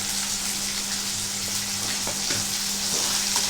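Ground onion masala paste sizzles loudly in a hot pan in a steady, dense frying hiss with a few faint clinks, heard up close and with no talk.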